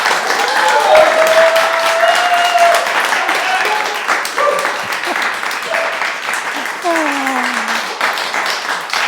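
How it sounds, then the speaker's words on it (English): Children clap steadily for several seconds, loud and sustained, with voices faintly audible beneath the applause. "Great, let's clap everybody."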